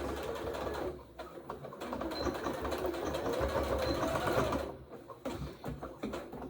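A sewing machine stitches across elastic on a headband, a close, steady mechanical whirr in short runs with a brief pause partway through, heard alone without talk.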